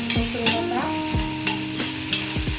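Garlic paste fries in a pan while a utensil stirs it, giving a steady sizzle broken by several distinct scraping strokes at a regular pace, close and clear with no talking.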